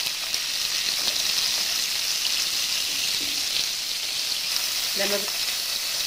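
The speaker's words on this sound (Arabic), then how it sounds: "انا بقى هشوحها كده الاول بالسمنه" Meat sautéing in ghee for an Egyptian peas and meat tagine, giving a steady, close frying sizzle throughout with a few faint stirring clinks, no talk over it.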